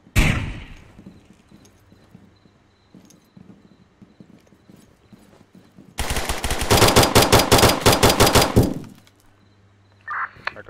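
Gunfire in the tactical FPS video game Zero Dark: a few sharp single shots early, then a loud sustained burst of rapid automatic fire for about three seconds, and another short burst at the end.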